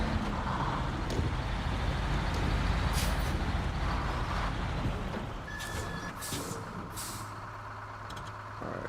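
A truck air brake engaging during unloading in SnowRunner, over a steady loud diesel engine drone, with a hissing release near the end and a sustained low hum, no voices.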